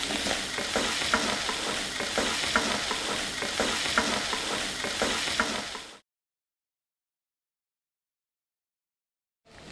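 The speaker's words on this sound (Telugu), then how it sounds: "ఇందులో ఉల్లిపాయ ముక్కలు వేసేసుకుందాం దీన్ని బాగా కలుపుకుందాం" Onion pieces sizzle steadily while being stirred with bitter gourd in a pan, a constant close frying hiss with small stirring clicks for about six seconds before cutting to silence.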